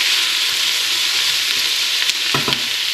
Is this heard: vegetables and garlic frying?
yes